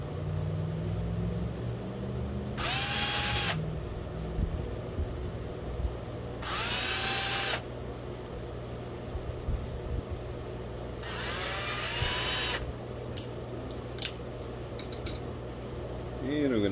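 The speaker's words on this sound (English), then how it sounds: "So I'm going to go ahead and pull those 3 screws out." Small power driver removing screws from an Scx24 RC crawler, three distinct high whirring bursts a few seconds apart over a low background hum, with brief clicks near the end.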